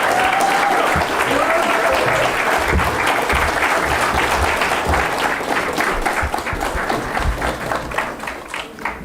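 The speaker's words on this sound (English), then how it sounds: "give a big round of applause to BF Batch of 2020" Audience applause at a graduation ceremony, dense sustained clapping from a large crowd that stays loud, then thins slightly toward the end, with a brief speaking voice under it.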